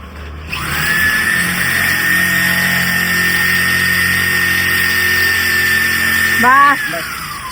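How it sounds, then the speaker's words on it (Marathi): A handheld electric drill gun whines loudly and steadily at high pitch for several seconds, then winds down with a brief revving flutter near the end, while people talk nearby. "ड्रिल मशीन आहे, ड्रिल मशीन आमची."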